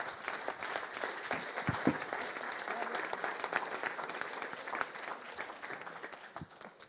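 An audience applauds at a round-table panel on the future of Agile coaching at the Agile en Seine 2021 conference, a steady wash of many hands clapping that carries on throughout and fades slightly at the end.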